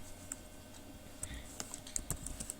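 Someone types QBasic code on a computer keyboard, with quiet scattered key clicks in an irregular rhythm and no talking.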